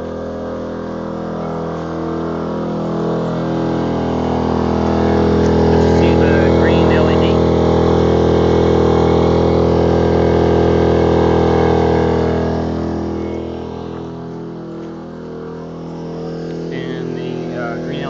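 A small 2000-watt portable generator drones steadily at idle, then its engine note rises and holds as a charging load is added before easing back down, while a person talks over it.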